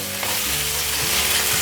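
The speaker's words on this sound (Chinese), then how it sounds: "放入1/8茶匙的姜黄粉，快速的拌炒" Tofu skin stir-fried with turmeric powder over medium-low heat, a steady close sizzle with scraping stir strokes throughout, no voices.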